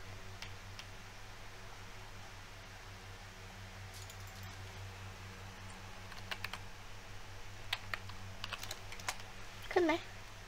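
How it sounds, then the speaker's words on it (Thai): Typing on a computer keyboard, steady soft keystrokes and faster clicking bursts close by over a low constant fan hum, with brief speech near the end. "ลองพิมพ์ไปก่อนเผื่อจะขึ้น"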